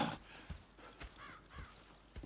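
Horses in the video game Red Dead Redemption 2 walk on packed ground, giving faint steady clip-clop hoofbeats in a loose rhythm, with a light bird-like warble in the background.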